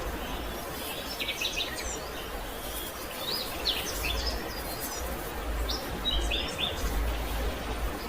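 Birds chirp in autumn mountains near the timberline, scattered high tweets and short calls coming and going over a constant hiss of wind or stream noise, with faint insects.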